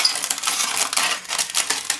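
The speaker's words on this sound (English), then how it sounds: "the plus side to cutting it with your scissors, it does sharpen the scissor blade" Scissors cut through crumpled aluminum foil, a close series of sharp crinkling, crackling snips that come in quick irregular bursts, no talk.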